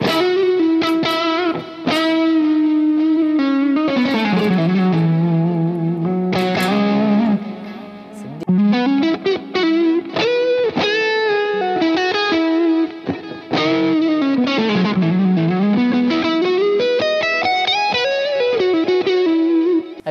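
An electric guitar playing a sustained, gliding melodic line through a Strymon Sunset pedal with stereo delay and reverb, loud and continuous with distorted, shimmering repeats trailing each note, no voices.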